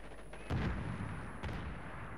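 Gunfire in the video game Medal of Honor: Warfighter, two heavy booming shots about a second apart, loud and close, each with a rumbling tail over a constant low background din.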